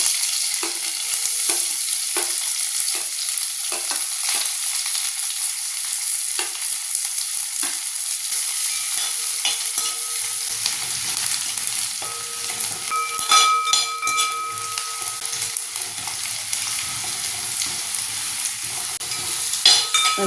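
Whole spices sauté and fry in hot oil in a pan for biryani, a continuous dense sizzle with occasional stirring scrapes and pops, steady and close throughout, no voices.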